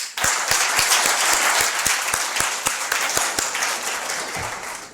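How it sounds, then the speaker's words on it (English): An audience claps in a hall during a leadership session, a full, loud round of applause with a few regular, prominent individual claps cutting through, tapering slightly toward the end. "I'd like to really give you a grand clap"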